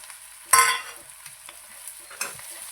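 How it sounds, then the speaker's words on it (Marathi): Salt, turmeric and masala sautéed in hot oil, heard as a couple of short, sharp sizzling bursts from stirring in the pan, separated by near silence and with no talking. "हे घातल्यानंतर पण छान असं हे तेलामध्ये परतून घ्यायचं."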